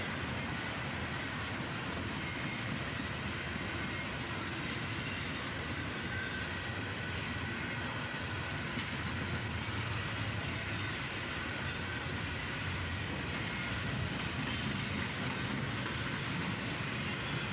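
A CSX freight train hauling a cut of gondola cars rolls steadily past, its continuous rumble and wheel clatter filling the scene at moderate distance without any voices.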